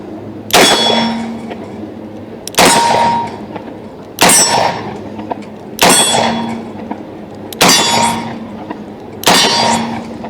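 Bullets striking a steel target plate at an outdoor range, fired from Smith & Wesson pistols or a Remington Model 14 in .30 Remington: six loud, ringing metallic clangs, evenly spaced about two seconds apart, each decaying slowly.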